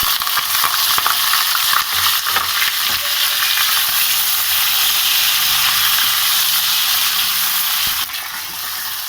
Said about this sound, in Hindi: इसको लहसुन और अदरक के साथ हमें इसे भूनना है चिकन को